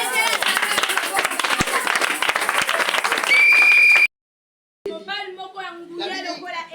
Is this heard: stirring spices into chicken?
no